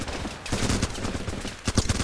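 Gunfire in the war game Running with Rifles, rapid overlapping shots cracking in quick bursts with a short lull before another cluster near the end, dense and fairly close.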